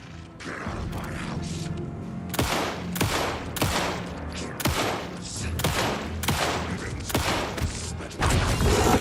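Gunfire in the video game Alan Wake on PS5: repeated loud gunshots in irregular bursts, sharp cracks spaced a second or so apart with mechanical clicks between them, no speech over them.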